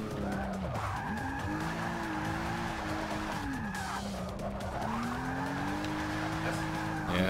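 A race car drifts through a corner in Forza Motorsport 6: Apex, tires skidding and squealing in long wavering tones over a steady engine drone, loud and close throughout.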